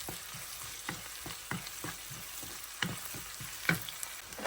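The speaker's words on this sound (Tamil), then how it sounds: "அதையும் இதோட பொரிய விடுவோம்." Onions and chili flakes fry in a pan, giving a steady close sizzle broken by regular clicks and scrapes of stirring, with no talking.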